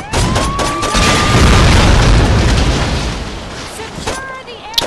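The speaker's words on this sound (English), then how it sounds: "Drove into an explosive barrel." A loud, deep explosion of a barrel in the video game Saints Row 2 booms and rumbles for several seconds, fading gradually, with a short burst of speech before it.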